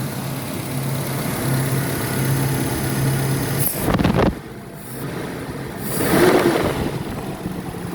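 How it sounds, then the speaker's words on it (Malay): A repaired Perodua Kembara engine idles steadily with a low hum, close by, with a brief louder surge partway through and no talk. "Jadi sekarang okey lah ini enjin."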